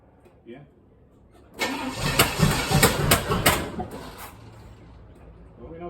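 An engine cranks and catches on its first start as a possible future project, then keeps running with a rough, loud, uneven idle close by, while people talk around it.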